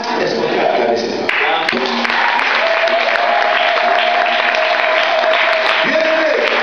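A church congregation bursts into sustained, dense applause during a service, loud and close throughout, with a steady tone and voices carrying over the clapping.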